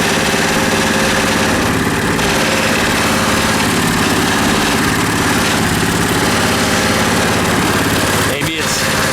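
A KT196 go kart's small engine runs at a steady idle, loud and close, with a loose frame or seat rattling along with it, and people talking nearby.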